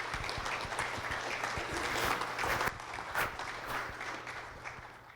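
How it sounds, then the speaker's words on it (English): Audience applause at a fundraising event in the hills, steady broadband clapping from a crowd sustained for several seconds, fading slightly near the end with little talk over it. "I'm gonna give a round of applause for these guys."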